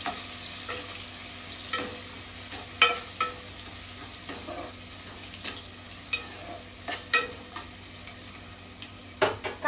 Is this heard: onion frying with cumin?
yes